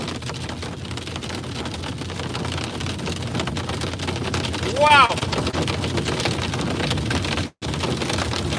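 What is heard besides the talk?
intense loud hail falling during a storm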